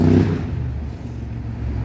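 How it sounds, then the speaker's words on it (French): A motorcycle passes along a roadside, its engine a low rumbling drone that swells at the start, eases briefly, then holds steady nearby. "On va laisser passer la moto."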